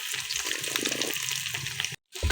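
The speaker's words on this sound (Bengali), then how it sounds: "একটা কড়াইয়ে তেল হলুদ দিয়ে ডিমগুলোকে ভালো করে লাল লাল করে ভেজে নেব" Peeled boiled duck eggs fry with turmeric in oil in a wok, making a dense, close, bubbling sizzle that runs steadily before cutting out briefly near the end.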